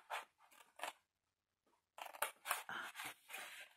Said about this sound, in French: pour bouger mes ciseaux